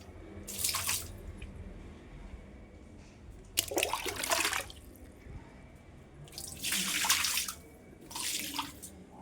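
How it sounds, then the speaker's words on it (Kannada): Water gushes from a tap in four separate bursts as cleaned items are rinsed at a sink, with quiet dripping and handling noise in the pauses between the splashes. "ಕಸ ಬಿಡಿಸ್ಕೊಂಡು ಫಸ್ಟ್ ನೀರು ಹಾಕ್ಕೊಳ್ಬೇಕು"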